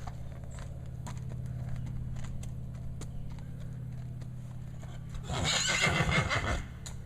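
A horse whinnies loudly near the end as she walks into her stall in a farm barn, after a stretch of low steady background hum with faint hoof clicks.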